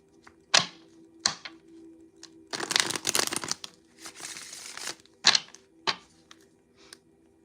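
Tarot cards are shuffled in quick riffling bursts, with a few sharp taps and slaps between, close and fairly quiet.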